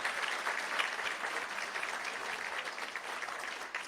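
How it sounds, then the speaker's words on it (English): Steady applause from a crowd at a school board meeting, continuous even clapping near and fairly loud, with no talking. "Let's give them a huge round of applause to their coach and the team"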